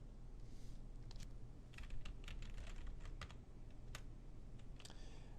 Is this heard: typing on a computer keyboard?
yes